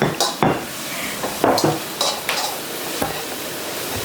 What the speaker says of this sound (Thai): ผัดไปเรื่อยๆให้หอม